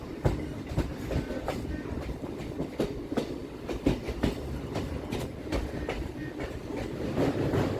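A Kolkata circular railway train runs on the Majerhat to Dum Dum line, heard from on board. A steady low rumble carries rhythmic clickety-clack wheel beats over rail joints at a moderate, even volume.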